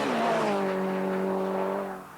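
A Peugeot 306 S16 rally car on a bumpy stage, its engine holding a steady, slightly falling note up close before easing off toward the end.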